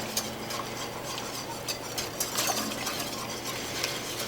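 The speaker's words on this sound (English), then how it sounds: "keep stirring it. I use a whisk." Whisk stirring buttermilk gravy made with lard in a pan, a steady soft scraping and light ticking of metal against the pan bottom, continuous and close over a low simmering hiss.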